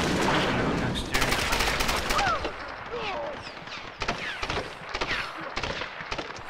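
Gunfire rings out in the Tomb Raider video game as rapid repeated shots and booms, with a person talking over them at times.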